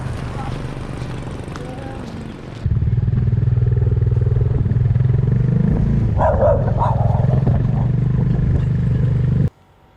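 A Bajaj Dominar 400 motorcycle rides along a road in Thailand or Laos, its steady engine drone and wind roar loud and continuous after a quieter opening stretch, with a brief burst of higher clatter midway.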